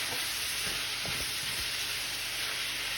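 Onions fry in a pan on an electric stove with a constant, hissing sizzle and a few low thumps of stirring, and no one speaks.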